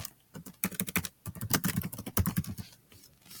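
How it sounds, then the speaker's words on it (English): Rapid clattering keystrokes on a computer keyboard, close and clear in uneven bursts with brief pauses. "Oh my lord, I can't type today."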